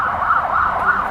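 A passing emergency motorbike sounds its siren, a loud, close, rising and falling wail that repeats in smooth cycles.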